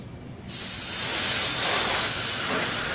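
A water spray rinses a car wheel, bursting on as a loud, steady hiss that holds for about a second and a half and then eases to a softer spray.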